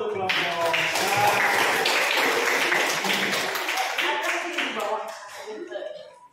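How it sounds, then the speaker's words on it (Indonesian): A classroom group gives applause for the first discussion group during a teacher coaching session, a dense burst of clapping from many hands that runs steadily for several seconds, then thins and fades at the end, with voices mixed in. "Tepuk tangan dulu untuk kelompok"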